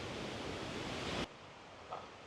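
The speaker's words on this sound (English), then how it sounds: "because we're right up on it, the waterfall" A waterfall rushes close by as a loud, steady broadband roar that suddenly drops to a quieter wash partway through.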